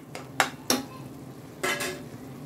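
Onions sautéing in a pan for a roadside salna, with a few sharp scrapes of a spoon stirring against the metal over a low, steady sizzle.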